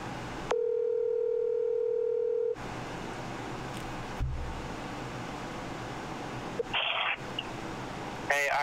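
A telephone call tone heard while trying to reach voicemail: a steady held tone for about two seconds, then a quieter line with faint clicks and short electronic bursts near the end.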